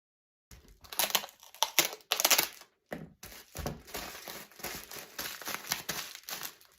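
A plastic bag packed with towels is wrapped with adhesive tape, giving bursts of crinkling plastic and ripping, squeaking tape pulls in irregular close-up spurts, separated by short pauses.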